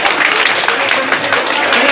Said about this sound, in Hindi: बहुत तालियां तालियां से स्वागत